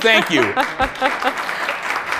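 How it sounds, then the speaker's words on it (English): Applause from an audience rises at the start and keeps going as a steady patter beneath a voice that talks over it throughout. "You have them clapping just so, because I'm saying words."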